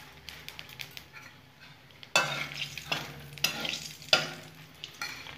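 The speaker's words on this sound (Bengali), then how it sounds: "তেল গরম হয়ে গেছে, এর মধ্যে আমি কালো জিরাটা ফোড়ন দিয়ে দিলাম, শুকনো লঙ্কা আমি ফাটিয়ে দিয়ে দেবো।" Nigella seeds and dried red chili tempering in hot oil for a boroli fish dish, a quiet crackle that bursts into a louder sizzle when added, with spoon scrapes and stirring against the pan.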